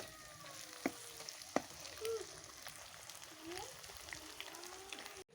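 Quiet, steady sizzle of an egg frying in a pan for a chana dal dish, with a few sharp clicks and scrapes of a utensil against the pan.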